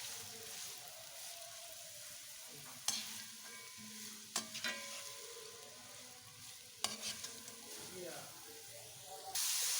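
Chopped vegetables for fried rice made with leftover rice fry in a pan over a low flame, giving a steady soft sizzle and hiss broken by a few clinks and stirring scrapes.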